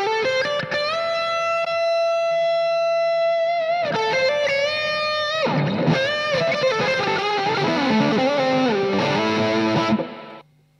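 Les Paul electric guitar played through a boost into an amp's vintage channel, with sustained, overdriven chords and notes ringing out steadily, loud and close, then cutting off at the end.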